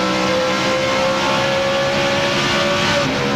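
Rusty Wallace's NASCAR race car screams along at high RPM during the 2002 Subway 400, a loud, sustained, near engine roar holding a steady pitch with a slight rise toward the end.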